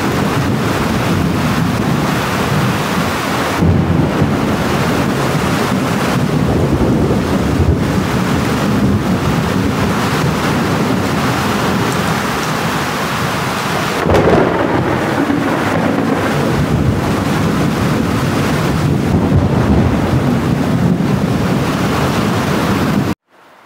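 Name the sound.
heavy rain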